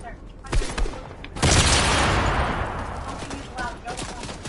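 Loud pistol shots crack in a video game match, a couple of close sharp reports followed by a burst of heavier gunfire and a long decaying roar, with a player talking.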